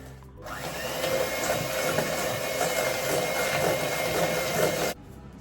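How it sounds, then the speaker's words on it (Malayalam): An electric mixer beating butter and sugar for a cake gives a steady, loud motorized whir for about four and a half seconds, then cuts off abruptly. "ഷുഗറും ബട്ടറും കൂടി നന്നായിട്ടൊന്ന് ബീറ്റ് ചെയ്തെടുക്കണം."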